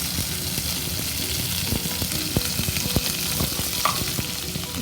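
Okra and chicken frying and being stirred in a pan with leftover okra oil added, a steady sizzle broken by scraping stir clicks, close and continuous with no talk.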